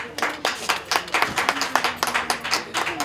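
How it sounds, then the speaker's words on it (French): Scattered, rhythmic clapping from a modest gathering at a New Year's greetings presentation, individual hand claps distinct and fairly close, continuing steadily throughout. "sous vos acclamations."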